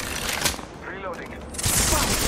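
Gunfire in the Apex Legends video game, a burst of rapid shots around the start followed by a louder stretch of firing near the end, with a voice talking over parts of it.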